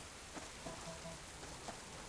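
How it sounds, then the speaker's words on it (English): Steady rainfall in the survival video game Subsistence, a faint continuous hiss of rain on surfaces with a few soft droplet taps, heard alone. "There's the rain."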